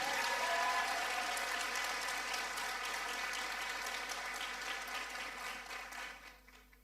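A crowd at a World Africa Day 2025 gathering claps in a sustained, even wash of applause that holds steady and then fades out near the end.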